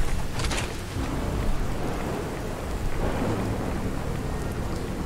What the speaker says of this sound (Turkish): Hem yağmur hem radyasyon.